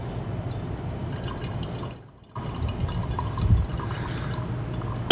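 Hot water streams from a kettle onto coffee grounds in a V60 pour-over, a steady close trickling pour that pauses briefly, then resumes with a gurgling splash.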